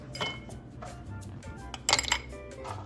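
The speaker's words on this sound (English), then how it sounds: "Ice cubes." Ice cubes clink in a glass while a Pink Lady apple cocktail is mixed, with a short cluster of bright, close knocks near the end over a low room hum.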